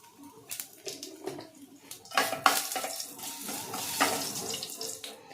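Whole cumin seeds and grated ginger fry in hot oil with a close, crackling hiss broken by uneven sputtering bursts. The sizzle swells in the middle and then settles. No one speaks.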